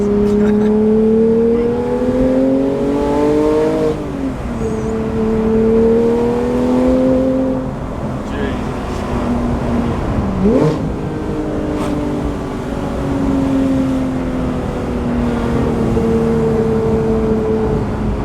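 Porsche 911 GT3 engine heard from inside the car, a strong tonal whine that climbs in pitch through several rising runs, dropping at each gear change, loud and continuous.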